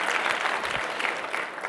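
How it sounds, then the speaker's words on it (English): Audience clapping at a talk, a brief burst of steady, moderately loud applause. "Now listen, all right, we can clap."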